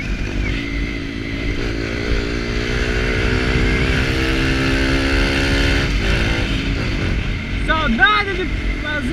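A Kawasaki Ninja motorcycle fitted with a straight-pipe sport exhaust revs loudly up close, its engine note rising and falling in sustained, raspy pulls, with a brief voice heard near the end.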